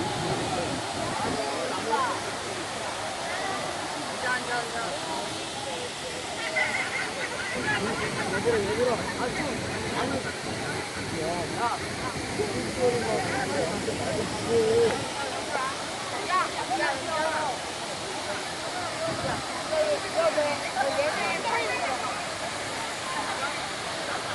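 Cheonjiyeon Falls roars steadily in the background while people talk intermittently over the rushing water.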